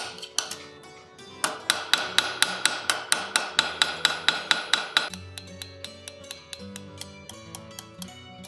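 Hammer blows on a rivet being mushroomed over a hinge during gauntlet assembly: a fast regular series of sharp metallic taps, loud and close, then lighter ringing strikes continuing at the same pace.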